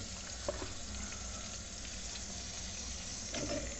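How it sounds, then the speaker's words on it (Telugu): Chicken pieces frying in a hot pan give a steady, close sizzle throughout, with a few faint scrapes of stirring and no talking. "now it's time to add chicken"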